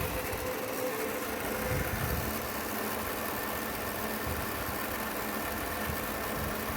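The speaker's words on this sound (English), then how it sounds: "There's the engine running." A 1966 Ford Mustang engine idles smoothly and steadily, a low continuous rumble with a faint even pulse, heard alone at moderate level throughout.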